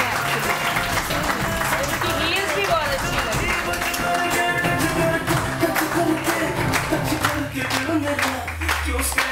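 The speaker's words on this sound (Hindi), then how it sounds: "बहुत सारी तालियां जी, बहुत सारी तालियां।" Studio audience applause on a Pakistani morning show during a saree segment, a steady broadband clatter lasting throughout, mixed with music and voices underneath.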